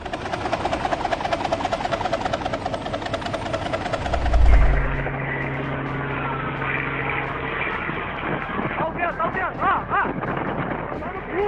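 An AgustaWestland AW139 helicopter's rotor and engine roar close by at low altitude, steady and loud, with a low thump partway through as it strikes treetops, and faint voices under the noise.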